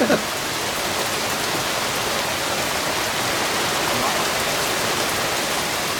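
Steady heavy rain pouring down over a rice field, a dense even hiss with no pauses, loud and close.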